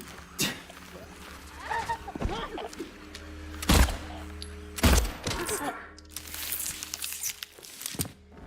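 Two heavy handgun shots in Silent Hill 2, spaced about a second apart, each a sharp broadband blast with a deep thump, set among quieter footsteps and creaking ambience. A voice talks through parts of it.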